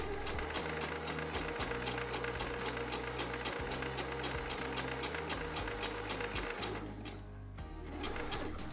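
A home sewing machine stitches a dart on a T-shirt in one steady, loud, continuous run of rapid needle strokes, easing briefly near the end before resuming, with no talking.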